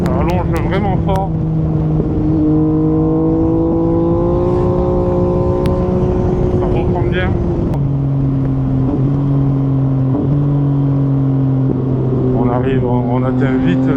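An MV Agusta Dragster 800RR motorcycle accelerates hard, its engine note climbing steadily through the gears with a shift near the midpoint, loud and close throughout, while someone talks over it.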